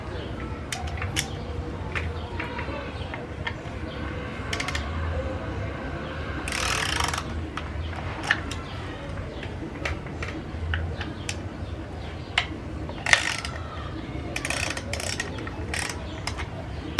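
Ratchet working on metric bolts on the stator cover of a 2005 Victory Hammer motorcycle, with repeated clicking ratchet strokes and occasional metallic clanks over a steady low background hum in a workshop.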